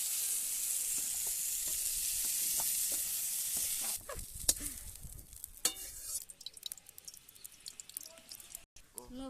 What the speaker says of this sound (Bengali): আমি এইভাবে ভেজে নেবো পেঁয়াজগুলো